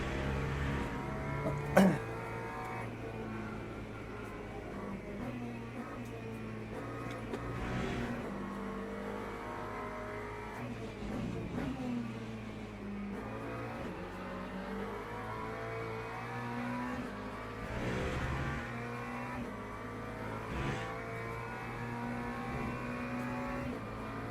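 Race car engine in the Le Mans Ultimate racing game, played on a Logitech wheel. It drones and revs continuously with rising and falling pitch through gear changes, and other cars are faintly audible for the whole stretch.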